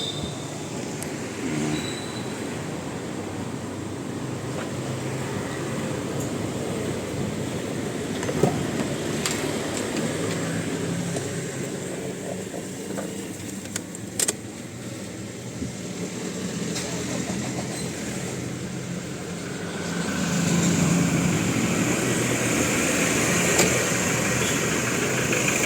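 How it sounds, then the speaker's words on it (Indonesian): A diesel engine runs steadily at idle for a makeshift fuel-siphoning setup during a diesel shortage, its constant hum filling the clip with a slight rise in level near the end and no talk over it. "kita hidupkan mesin."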